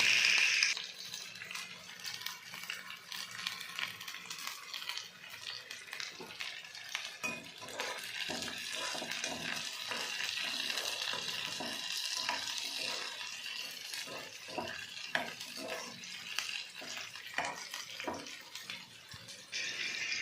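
Sliced onions and green chillies fry in a home kitchen pan, giving a steady, fairly faint sizzle broken by scraping and stirring clinks, with no talking.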